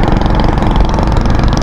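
A loud engine running close by, a rough continuous rumble with rapid pulsing, like a motorcycle idling.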